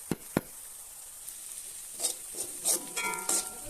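Chopped shallots and onions sautéing with spices in a pan for a clam pepper roast, with a soft sizzle under a couple of sharp knocks and then scraping stirring strokes that grow busier, no talking.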